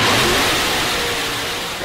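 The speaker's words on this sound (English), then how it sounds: "That's the sound of America's only sports car." A Chevrolet Corvette sports car engine roars loud and close, revving hard with a broad, full exhaust sound that eases slightly as it holds.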